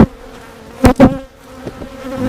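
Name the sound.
honeybees buzzing in a swarm trap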